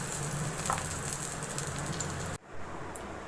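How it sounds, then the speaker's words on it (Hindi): Cumin seeds fry in hot oil with a close, dense crackling sizzle that runs steadily, then cuts off abruptly, leaving a quieter hiss for the last second. "ये जो ज़ीरा हमने फ्राई किया अब इसमें ऐड कर देंगे हम"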